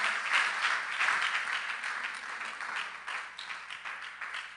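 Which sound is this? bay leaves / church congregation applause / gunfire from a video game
church congregation applause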